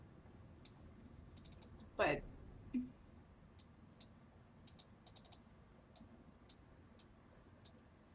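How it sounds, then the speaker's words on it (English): Sharp mouse or keyboard clicks tap out at an irregular pace from a computer during a session of The Room 2 puzzle game, close to the mic, with a brief voice speaking partway through. "I'm sorry about the clicking"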